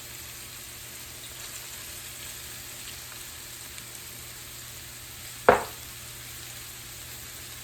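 Fresh okra frying in a pan on a stovetop, a soft steady sizzle throughout, broken once by a single sharp clack of a utensil against the pan.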